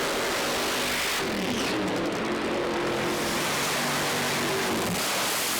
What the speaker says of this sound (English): patiently waiting for the instruction to fire the engine